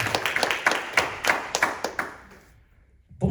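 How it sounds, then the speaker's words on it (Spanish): A church congregation applauds during a sermon, a short burst of sharp, fairly close hand claps in a quick uneven rhythm that stops abruptly, followed by near silence. "Denle un aplauso fuerte a Jesucristo."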